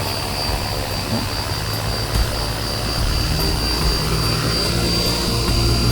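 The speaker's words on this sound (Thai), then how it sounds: "ถ้าแบตหมดมันจะกลับบ้านเองแบบนี้ครับลงมาจอดแบบนี้" An RC helicopter fitted with GPS sets down on its own after its battery runs low, its rotor and motor making a steady, loud whine and drone that stays constant throughout with no voices.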